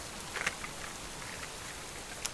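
Steady rain falls in the survival video game Subsistence, a soft, even wash of drops with a few sharper patters standing out, faint and continuous without any voices.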